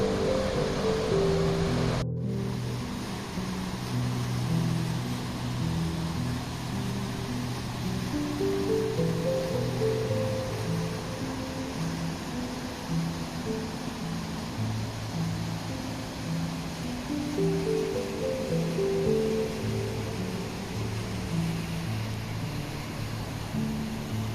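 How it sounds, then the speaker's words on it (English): Water and waves on a nature walk make a continuous, even rushing wash that stays steady throughout, alongside soft melodic music. "I hope you can hear me over the water."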